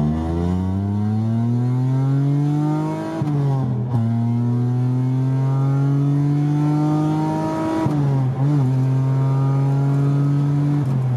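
A Hyundai Tiburon GT fitted with headers and a cold air intake pulls hard in third gear on a highway, its loud engine note climbing steadily in pitch across two long pulls, with a brief dip at each lift between them.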